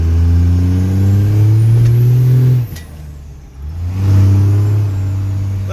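Dodge Dakota with a 12 valve Cummins diesel and S300 turbo, loud close engine droning hard under load, then cutting off abruptly to a quieter lull before building back up again.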